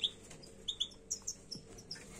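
Goldfinches in an aviary give short, high chirps and tweets in scattered bursts, fairly faint and moderately close, with no voices.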